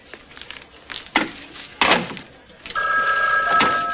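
A payphone down a hallway starts ringing after a few knocks and shuffles, its bell trilling loud and steady to the end.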